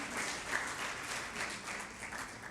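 Church congregation giving a round of applause during a sermon, a soft, even wash of many hands clapping at a distance, fairly quiet and steady.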